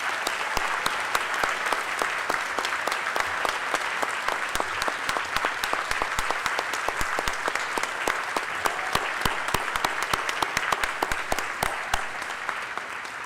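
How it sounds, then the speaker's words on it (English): A crowd at a high school academic awards ceremony applauds steadily and warmly, many hands clapping in a dense, sustained wave that carries on without a break. "How about a round of applause?"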